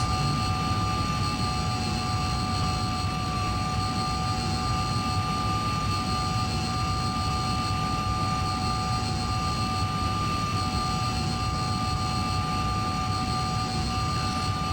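A Hawker Sea Hawk jet in Flight Simulator 2020 gives a constant, loud engine drone with a steady high whine layered on top. The tone stays even and unbroken from start to finish, with no voices.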